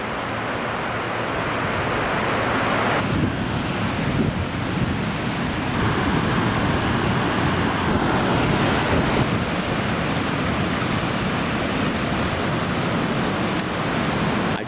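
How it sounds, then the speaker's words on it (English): Water from a whitewater park rushes out in a steady, broadband roar, loud and continuous like surf or a waterfall, with slight swells in intensity and no voices. "It takes a little time for the full amount of water to come down."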